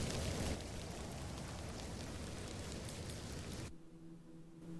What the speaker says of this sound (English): Little rain is no bother.